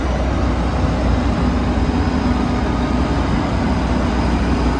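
A Claas Lexion 670 combine harvester in good condition runs with a steady, loud, low engine rumble and broad mechanical noise that stays even throughout, with no talking.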